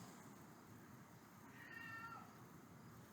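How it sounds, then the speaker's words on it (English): A house cat gives a single faint, drawn-out meow in a quiet room, a soft rising-then-falling cry heard at a distance. "Here comes my cat."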